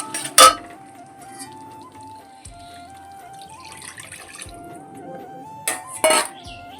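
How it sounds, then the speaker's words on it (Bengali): Water pours into a cooking pan holding fried spice paste with ground mustard and poppy seed, a low steady trickle across the clip, with sharp clinks of pots and utensils near the start and again near the end. "এবার দেখো জল দিয়ে দিলাম আমি"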